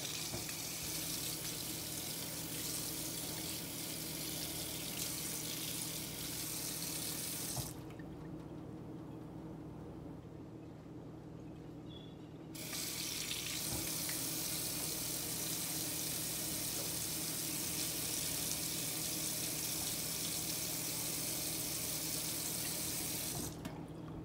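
A household tap runs steadily into a clogged sink, a constant close hiss of water that cuts off for about five seconds midway, then resumes and carries on.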